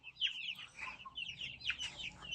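Chicks in a backyard poultry pen peep in rapid, overlapping high chirps that carry steadily and close by, with soft clucks from nearby fowl mixed in.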